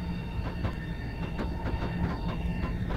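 A high-speed electric train resembling a Japanese bullet train running on HS1 in the Train Simulator 2015 video game: a steady, loud rolling rumble with rhythmic wheel clicks and a faint high squeal throughout, no voices.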